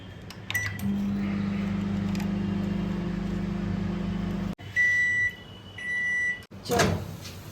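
Microwave oven heating hilsa fish, a steady low hum running for several seconds, then the door clunk and a series of electronic beeps, with someone talking.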